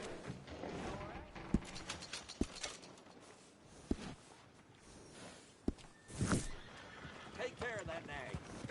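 A horse in Red Dead Redemption 2 whinnies and snorts near a stable while hooves clip-clop and sharp mechanical clicks punctuate the scene; a voice speaks over it.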